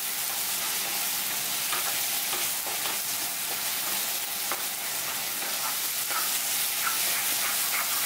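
Mushroom pepper fry sizzles steadily in a hot pan while it is stirred, with a constant loud hiss and faint scraping throughout and no voices.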